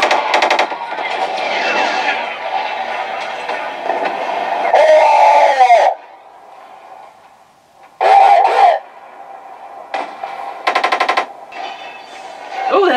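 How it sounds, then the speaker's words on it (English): Sci-fi AT-AT walker sound effects from a TRamp trooper comm system: loud mechanical bursts and rumbling, with sharp rapid-fire blasts near the middle and end, separated by quieter stretches. "Oh, there's an AT-AT, I hear that."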